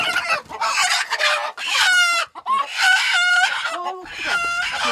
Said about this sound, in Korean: 실한 암탉으로 한 마리 고르는데요